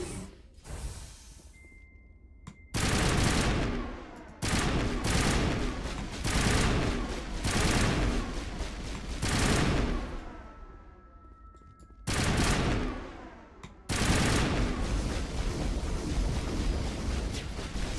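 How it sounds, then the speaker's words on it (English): Gunfire in Mass Effect Legendary, dense bursts of rapid shots and blasts in loud sustained stretches separated by brief quiet gaps, with a few tonal game effects mixed in. "Stop shooting me, Liara."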